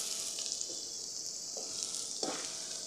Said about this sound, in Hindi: सब सब्जियों को हम अच्छी तरह से थोड़ा सा फ्राई कर लेंगे।